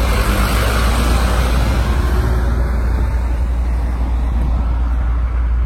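A Mercedes-AMG GT 4-door saloon pulls away from a standing start outside, its engine giving a loud, steady, broadband roar that holds at full strength throughout without a break.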